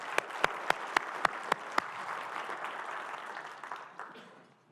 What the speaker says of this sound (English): How about another round of applause for our president and our first lady?